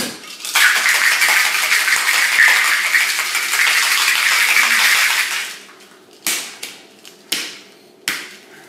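A cocktail shaker with ice and a drink of lime juice and German grenadine is shaken hard in a steady, loud rattling burst for about five seconds, followed by a few separate clacks and knocks.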